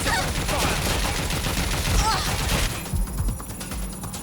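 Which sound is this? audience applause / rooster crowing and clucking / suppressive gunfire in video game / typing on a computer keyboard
suppressive gunfire in video game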